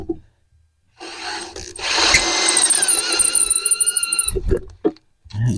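A power drill whines at high speed for a few seconds, grinding and straining while working on a truck axle, smoking, then stops with a few knocks and thumps.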